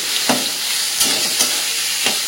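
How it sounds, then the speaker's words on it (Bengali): Carrots and mixed vegetables stir-fry in a pan with a soft, even sizzle, broken by a few sharp scrapes and clatters of a spatula stirring them. "ওই জন্য গাজরটা একটু হালকা একটু ভাজা হয়ে গেলে এক এক করে সবজিগুলো আমি অ্যাড করতে থাকি, দিয়ে হালকা করে একটু ভেজে নেবো আগে"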